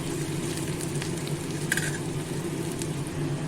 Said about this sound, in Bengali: এদিকে দেখো জলও শুকিয়ে এসেছে আর পেঁয়াজও ভাজা হয়ে এসেছে